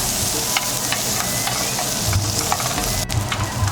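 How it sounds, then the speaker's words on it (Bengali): Sliced onion frying in hot oil in a pan for a beef steak sandwich, a steady close sizzle with scraping stir strokes and occasional clinks running throughout. "আমাদের পেঁয়াজটা ঠিক এরকমই ভাজা হবে"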